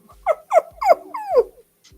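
A puppy whimpers close by in four short, whiny, rising-and-falling cries in quick succession, with a slight growly edge, then goes quiet.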